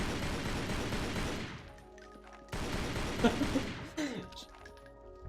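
Gunfire in the Lara Croft: Legend video game, bursts of rapid loud shots with cracking impacts, interrupted by a pause and followed by clattering thuds.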